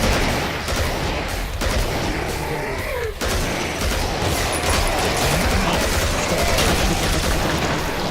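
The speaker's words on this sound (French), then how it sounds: "il tire à la mitraillette" Rapid machine gun fire in the video game Killing Floor, a loud, sustained burst of gunfire that keeps going for the whole stretch with barely any letup.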